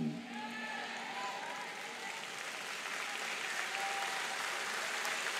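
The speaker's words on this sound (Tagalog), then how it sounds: "ganyan lang palakpak mo" A congregation claps steadily at a church worship service, a dense, even patter of applause that continues throughout, with faint voices underneath.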